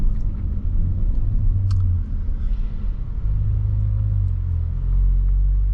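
A 2018 Audi RS5 Coupe pulls away on a test drive, its engine a deep, loud rumble from inside the cabin that rises in pitch as it accelerates, without any talk.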